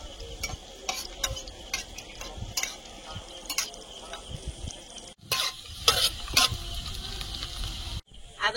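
Ginger and garlic fry in a pan as a spoon or spatula stirs and scrapes, with soft sizzling under irregular clicks and knocks, the sound fairly quiet and close.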